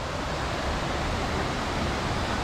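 Waterfalls along the Orrido trail in Val Sanagra pour with a dense, steady, broadband rush of falling water, close and unbroken, with no voices.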